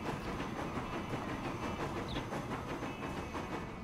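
A Crocodile electric locomotive in the Transport Fever video game runs steadily, its rumbling motor and rhythmic clickety-clack of wheels on rail continuing without a break as it gathers speed toward a climb.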